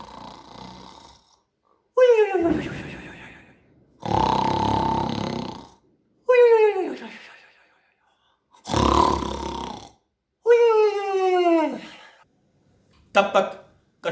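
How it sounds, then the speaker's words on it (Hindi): Cartoon hare asleep under a tree, snoring loudly in long rhythmic cycles, rasping inhales alternating with whistling, descending exhales, repeated about six times, close and exaggerated, likely voiced by a performer. "वो जोर जोर से खर्राटे मारते हुए सो जाता है"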